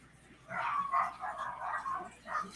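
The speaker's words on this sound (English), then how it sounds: "I don't know if you guys can hear my dogs" Several dogs bark in another room during a live football game broadcast, faint and muffled but repeated, a run of yapping barks over a quiet background.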